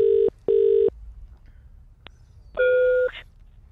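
Electronic telephone dialing tones over a phone line: two identical steady beeps in quick succession, a short pause, then a longer two-tone beep, clear and close with no talking.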